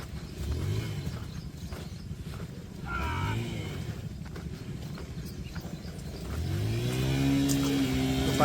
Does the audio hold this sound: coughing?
no